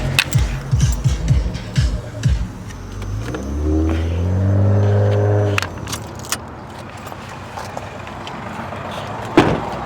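A car engine revs up loudly nearby as it leaves a cars-and-coffee car meet, rising and then fading as it pulls away, with clicks and rustling around it.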